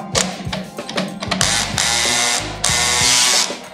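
Black & Decker battery drill on clutch setting 1, its motor whirring in short bursts and longer runs, loud and close, with ratcheting clicks as the clutch slips.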